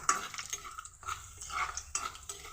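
Sun-dried mutton pieces frying in a pan, heard as soft sizzling broken by irregular scrapes and clinks of a utensil stirring against metal, fairly close and without voices.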